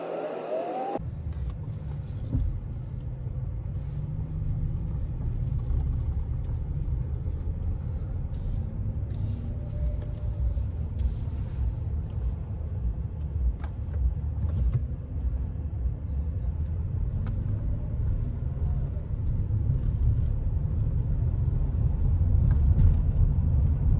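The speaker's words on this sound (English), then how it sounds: "The engine still feels like it's got all of its power." A truck's engine runs steadily for the whole stretch, a low continuous rumble that stays close and fairly loud and grows slightly heavier toward the end, with no talk over it.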